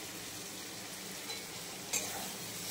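Fried potato pieces tumbled into a sizzling spice mixture in hot oil while cooking a snakehead fish curry, a steady low fry hiss with light stirring scrapes and one brief clink near the end.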